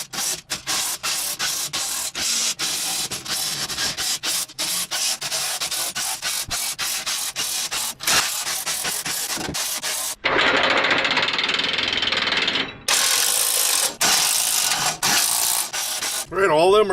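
Bolts on a Harbor Freight aluminum cargo carrier being tightened with an 8mm socket and a Phillips screwdriver, a rapid run of close, sharp ratcheting clicks, then a longer grinding burst and more clicking.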